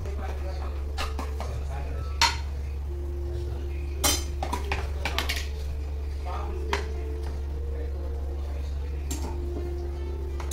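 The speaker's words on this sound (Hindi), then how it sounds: "सेम पैन लेंगे, इसमें डालेंगे हम बटर।" A pan and utensils clink and knock a few times in a home kitchen while butter is added for Indian-style white sauce pasta, sharp metallic taps scattered over a steady low hum, with someone talking throughout.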